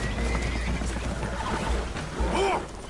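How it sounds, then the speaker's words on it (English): Spooked horses whinny in distress aboard a leaking boat in the video game Red Dead Redemption 2, shrill rising neighs over a constant watery, rumbling background, with the clearest cry near the end. "Horses are spooked"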